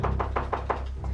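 Five quick, evenly spaced knocks on a door, close and sharp, followed by a softer sixth rap, in a Spanish-language telenovela scene.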